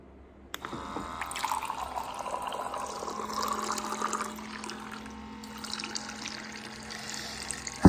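Water poured into a beer glass, a continuous close pouring and filling sound that runs for several seconds and then eases off, followed by a sharp bump at the end.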